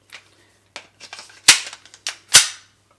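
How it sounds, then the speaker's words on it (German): An airsoft gun loaded with six rounds fires timed interval shots during home practice for a BDMP shooting discipline, with two sharp, loud cracks standing out among fainter clicks and handling noises, no talking. "habe das Airsoft-Magazin mit 6 Schuss geladen"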